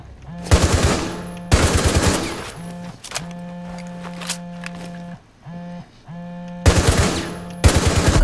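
Gunfire in Rainbow Six Siege during a Tower team deathmatch, with loud, close automatic bursts in several separate volleys and quieter game sounds and tones in between.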